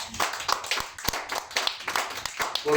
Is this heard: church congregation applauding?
yes